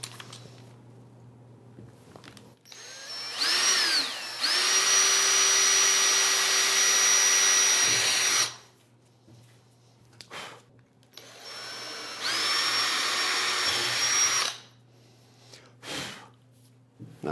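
A drill bores screw holes through an overlay door panel in two long bursts, each with a rising whine that steadies into a loud, even buzz, separated by quiet handling noises and no voices.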